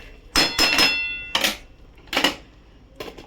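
A metal lid set onto a cooking pot, a cluster of close, ringing clanks and rattles followed by two more clinks as it settles, no voices.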